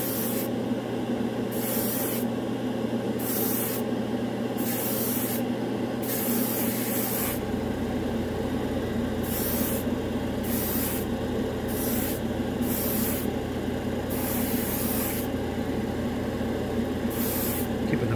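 An airbrush sprays Badger Stynylrez gold primer onto a Gunpla model kit, a close airy hiss broken into repeated short bursts with brief pauses, under a constant background drone and no talking.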